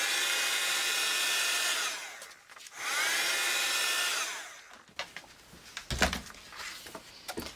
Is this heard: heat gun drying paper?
yes